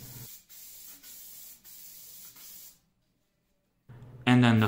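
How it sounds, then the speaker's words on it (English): Three hissing bursts of spray glue onto foam for a car seat, each lasting under a second, separated by short gaps, then a pause before a voice begins speaking. "Now for the second piece, go ahead and spray it."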